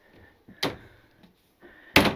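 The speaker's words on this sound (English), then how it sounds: "Your washer and dryer is hidden behind the doors as usual." Closet doors concealing the washer and dryer in a 2025 Newmar Essex 4569 motorhome bathroom are handled, with two sharp close knocks as the doors shut or latch, each preceded by faint sliding and rattling.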